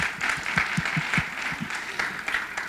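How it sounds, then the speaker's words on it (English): Steady audience applause fills a conference hall at Regenerative NYC, many hands clapping in dense overlapping bursts at moderate loudness, sustained for a few seconds with no talking over it. "So a big round of applause, please."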